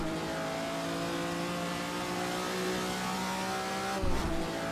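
A front-mounted Ferrari V12 screams near 8,000 RPM in the Assetto Corsa racing game, a steady high-pitched, loud engine note held throughout, with a brief shift in tone near the end.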